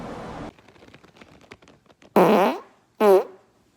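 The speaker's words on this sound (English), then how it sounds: "I also have been getting people to send us in some farts" Two loud, close farts sent in by a listener, a short spluttering burst followed by a second brief blast, after a quieter stretch of faint crackling noise.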